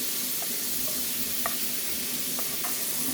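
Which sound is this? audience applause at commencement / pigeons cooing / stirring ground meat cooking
stirring ground meat cooking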